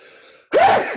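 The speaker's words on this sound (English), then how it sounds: "I gotta sneeze." A sharp, loud sneeze bursts out close up after a brief indrawn breath, ending abruptly.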